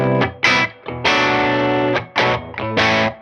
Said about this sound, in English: there are obviously other LED distortion pedals out there